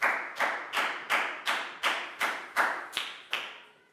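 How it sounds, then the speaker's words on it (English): A classroom of Year 4 students claps for a classmate: about ten sharp, evenly spaced claps, close and fairly loud, like a rhythmic unison round of applause with no talking. "High five and a big round of applause for Pak Bung."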